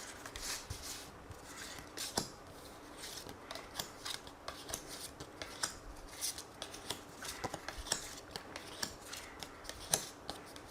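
Tarot cards being shuffled for a card reading: a quiet, close run of soft riffling and rubbing sounds with irregular crisp snaps, heard alone.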